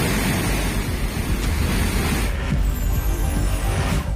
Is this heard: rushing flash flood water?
yes